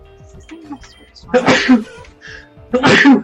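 Two sharp, loud sneezes about a second and a half apart, close to the microphone, following a brief spoken question in a quiet room.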